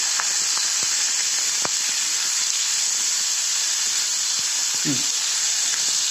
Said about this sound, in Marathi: आता ह्याच्यामध्ये थोडी पेस्ट टाकते चांगलं भाजून घ्यायचं कांदा